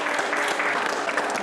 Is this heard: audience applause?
yes